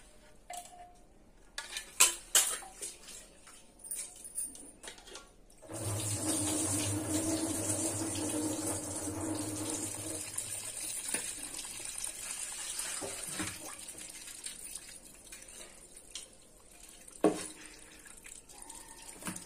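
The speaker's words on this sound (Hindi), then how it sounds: "इसको हम बढ़िया से धो ले रहे हैं साफ करके।" Running water from a tap as dal and rice are washed in a vessel, a steady close rush for several seconds, preceded and followed by clinks and handling of pots, with no talking.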